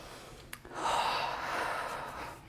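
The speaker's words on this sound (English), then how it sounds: "Take a breath." A deep breath taken during a Pilates workout: a quick sharp sniff, then a long audible inhale and exhale, close to the microphone.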